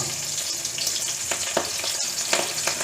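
Shallots, crushed garlic and curry leaves frying in oil in a pan as the base of a fish gravy, a steady bright sizzle with scattered sharper pops and crackles throughout.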